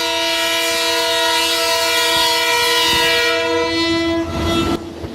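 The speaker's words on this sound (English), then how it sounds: "The rumble of wheels on steel and the deep blast of its horn" A train on a Ghanaian railway sounds a long, loud, steady multi-tone horn blast over the rumble of wheels on steel rails, the horn cutting off near the end.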